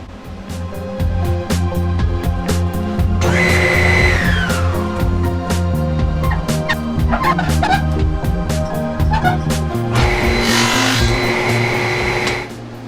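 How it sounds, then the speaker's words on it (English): A table saw with its blade tilted to 45 degrees makes miter cuts for the sides of a wooden gift box, a steady loud motor whine with the pitch of the blade shifting as the wood is fed through, running throughout with no talk. "now I'm going to make the miter cuts for my sides"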